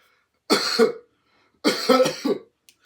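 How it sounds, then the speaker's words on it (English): A patient gives two deep, harsh coughs during a neuro assessment, close to the microphone, with a short quiet gap between them. "Could you take a couple of deep coughs for me?"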